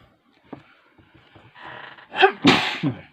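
A single loud sneeze bursts out after some quiet rustling, sharp and close, with a brief intake just before the main blast.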